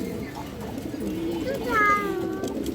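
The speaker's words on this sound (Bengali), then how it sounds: "এই দেখেন অনেক সুন্দর একটা কবুতর বড় সাইজের" A large pigeon at a market stall gives soft, low cooing in the background, faint and steady, while someone talks over it throughout.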